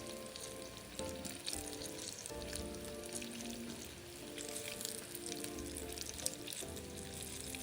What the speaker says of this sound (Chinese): 全程只需要油炸个2至3分钟，成品表面金黄色后即可离火